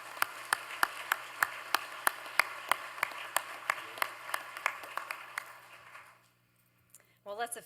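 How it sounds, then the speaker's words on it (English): At a business hall of fame induction, the audience claps in crisp, evenly spaced beats that fade out over several seconds, then a voice starts speaking. "Let's give this group a round of applause."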